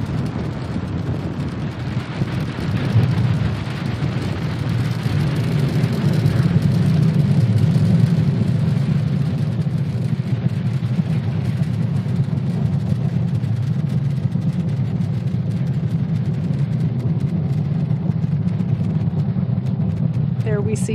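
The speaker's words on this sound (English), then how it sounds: "Falcon 9 has successfully lifted off from Cape Canaveral Space Force Station, carrying our stack of Starlink satellites into orbit" A SpaceX Falcon 9 rocket lifting off from Cape Canaveral Space Force Station carrying Starlink satellites, a sustained distant low rumbling roar that swells and holds steady throughout.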